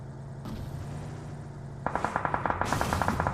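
Automatic gunfire in a battle royale video game match: after a low background rumble, a steady rapid burst of evenly spaced shots starts about halfway through and continues loud to the end.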